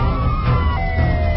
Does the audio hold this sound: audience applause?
no